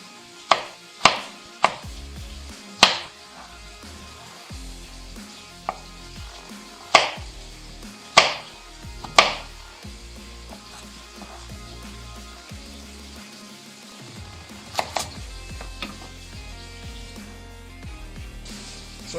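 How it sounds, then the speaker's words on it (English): A knife cutting thick chicken pieces on a board, sharp separate chops at an uneven pace spread across a quiet kitchen background. "If you've got some thick pieces like I have, you can just trim them down."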